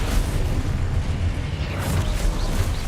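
Loud, dense rumbling blasts from spell explosions in Hogwarts Legacy roar continuously through a few seconds of combat, with no gaps between them.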